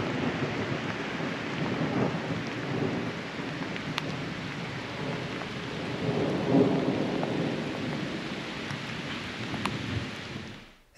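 Heavy rain pours outside a Roadtrek van at Mount Ascutney, a dense, steady roaring hiss that stays loud and unbroken before cutting off abruptly.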